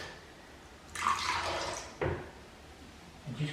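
Water poured in a short splashing stream into white emulsion paint to thin it, two brief pours about a second apart, close and fairly quiet.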